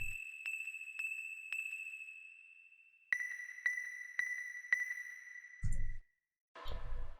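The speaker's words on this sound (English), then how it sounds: "And then I added this weird kind of pluck sound for the high notes of the piano of the original." A strange synth pluck plays the high piano notes of an electronic undead-themed track, ringing bright repeated tones in two phrases, followed by short bursts of low thumping near the end; no voices.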